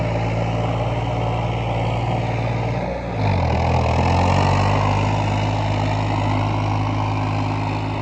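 A tractor engine at a village fair tractor pulling contest, running steadily and loud nearby with a deep continuous drone, briefly dipping then revving up again.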